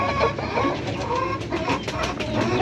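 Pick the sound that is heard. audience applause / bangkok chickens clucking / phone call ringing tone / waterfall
bangkok chickens clucking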